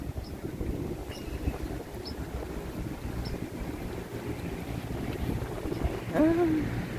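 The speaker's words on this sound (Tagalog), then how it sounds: "Ay, ito yung alon, no?" Waves lapping along the Hudson River shore at a Manhattan beach, a steady low wash under wind noise on the microphone, with a brief louder tonal sound near the end.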